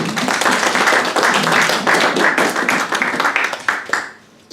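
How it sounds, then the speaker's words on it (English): An audience at a live magic lecture applauds a volunteer: loud, dense clapping from many hands, sustained and then thinning out and stopping near the end. "Give a round of applause"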